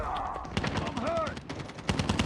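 Rapid automatic gunfire in a Call of Duty Mobile team deathmatch, dense bursts of shots running through the whole moment with game sound effects mixed in.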